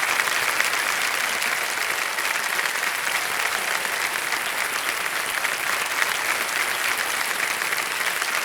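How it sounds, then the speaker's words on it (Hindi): A studio audience on a televised quiz show gives steady, sustained applause, a dense even wash of clapping that holds throughout at full strength with no speech over it. "तालियां बज जाए इनके लिए।"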